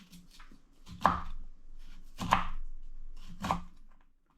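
Three knife cuts through kohlrabi on a cutting board, evenly spaced about a second apart, each a crisp near thunk with quiet pauses between.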